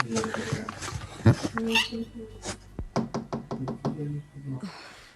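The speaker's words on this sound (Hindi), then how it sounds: "कोको, दरवाजा खोलो, मैं हूँ मिमी।" Knocking on a door comes as a quick series of about eight evenly spaced, sharp raps, heard after a stretch of talking and some clatter.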